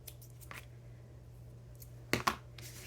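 Scissors give a couple of quick, crisp snips while trimming paper for a collage, close and brief against a quiet background with a faint low hum.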